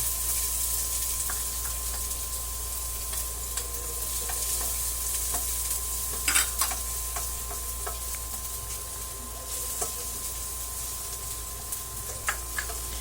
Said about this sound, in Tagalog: Magigisa po tayo ng sibuyas. Unahin po natin ang sibuyas. And then sunod po natin ang bawang.